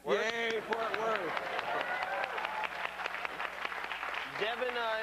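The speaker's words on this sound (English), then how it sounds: "And big round of applause for Fort Worth." Game show studio audience applauding and cheering, a steady wash of clapping that fills the whole stretch, with voices calling out and a host talking over it at the start and again near the end.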